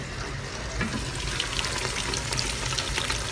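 Sardines fry in oil in a covered pan for a sambal dish, giving a dense, steady sizzle with scattered small pops and crackles, close and continuous throughout.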